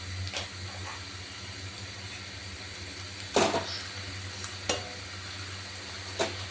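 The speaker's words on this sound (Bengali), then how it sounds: "কিমাটা আবার এর সঙ্গে মিশিয়ে নিচ্ছি।" Homemade chicken mince sizzles with spices in a pan while a spatula stirs it, a steady low hiss broken by a few scraping strokes and clatters, close up with a faint fan hum behind.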